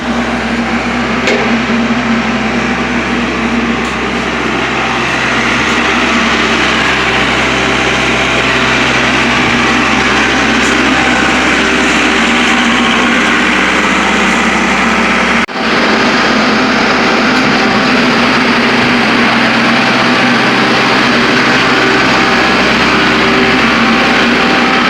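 A tractor engine running loud and close while lifting a vertical mill, a constant droning hum with faint knocks and clanks, steady for the whole stretch with a brief dropout near the middle.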